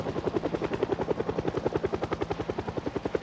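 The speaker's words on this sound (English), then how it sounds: "When is this helicopter going to run out of gas?" A helicopter flies overhead in the zombie survival game Project Zomboid, its rotor thumping in a fast, steady, loud rhythm throughout with no talk.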